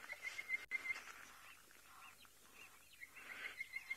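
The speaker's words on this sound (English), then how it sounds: "Orange-breasted bushshrike." Orange-breasted bushshrike calling from a thorn thicket, faint repeated whistled notes at the start and end over a quiet outdoor background.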